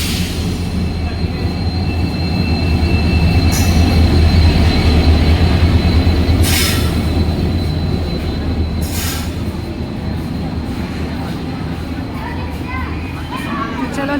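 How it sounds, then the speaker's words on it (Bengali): A train arriving at a railway station rolls in with a steady heavy rumble, rattling carriages and occasional sharp wheel squeals, loud and close, continuing throughout. "বাজে 5:06 আর ফাইনালি ট্রেন এসেছে।"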